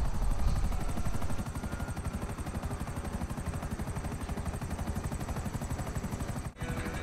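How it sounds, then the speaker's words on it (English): A helicopter in GTA Online, already damaged, holds a steady rapid rotor chop throughout, loud and continuous, with a brief dip near the end before the thumping resumes. "my helicopter is already damaged"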